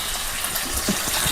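Cooking oil poured into a pan already holding onion, curry leaves and dried red chillies for a dried-fish curry; a steady, close liquid rush with soft bubbling, no talk.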